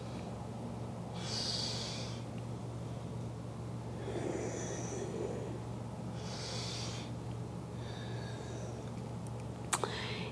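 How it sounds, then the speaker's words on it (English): Soft, slow breathing during a beginner yoga flow, with several gentle airy inhales and exhales spaced a couple of seconds apart over a low steady hum in a quiet room. "Breathing in and out."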